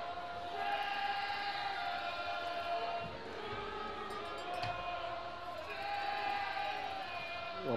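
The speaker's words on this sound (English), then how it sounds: "Crowd on their feet, willing Chattanooga to get this ball to the back of the net." Crowd at a Chattanooga FC soccer match against Cal United, a dense, steady roar of cheering and shouting that swells and dips slightly across the clip.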